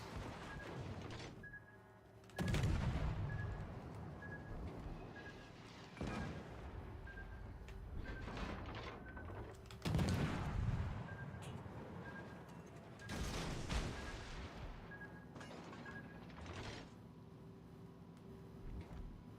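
Enemy gunfire and heavy explosions in a tank battle game, several booming blasts spread over time with sharp cracks, rumbling engine noise and a recurring beeping tone between them.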